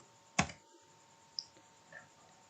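A few isolated keystrokes on a computer keyboard while code is typed: one sharp, close tap followed by two much fainter clicks, with no talking.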